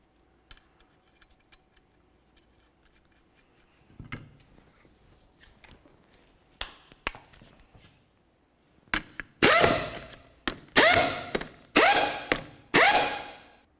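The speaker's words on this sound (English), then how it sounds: "we'll torque each of these lug nuts to" Torque wrench tightening the 21mm lug nuts on a 2004-2006 Scion xB front wheel, with faint ratcheting ticks first, then a run of sharp, loud metallic clicks in quick bursts near the end.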